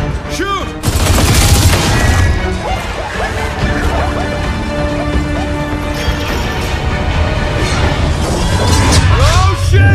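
Gunfire in the video game Gears of War 4, with dense sustained bursts of shots mixed with crashing impacts and smashing debris, loud and continuous throughout, with voices briefly heard.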